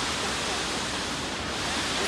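Huangguoshu Waterfall, China's largest, roars as a dense, steady wash of broadband noise heard from a viewpoint partway up the hillside.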